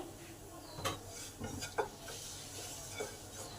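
Spices frying on a low flame with a pinch of sugar, stirred in a pan for fish roe kofta curry: a soft steady sizzle under scattered scrapes and clinks of the spoon, close and fairly quiet.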